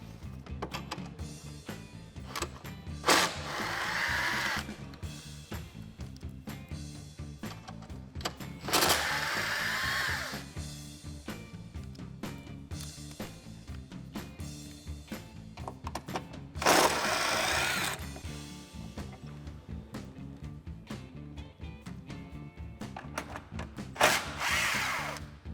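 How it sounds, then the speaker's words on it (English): A 10mm socket on a power tool spins bolts out of a Jeep Wrangler JL 3.6L engine bay in several short whirring bursts, separated by quieter gaps of handling and clinks. "We'll remove all of those with a 10mm socket."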